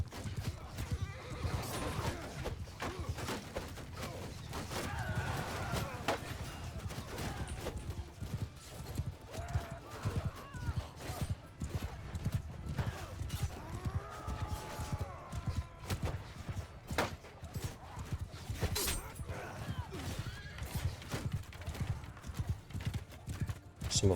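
Cavalry horses in Mount & Blade II: Bannerlord pound along in a continuous rapid clip-clop, with repeated neighs and whinnies rising over the hoofbeats throughout the charge.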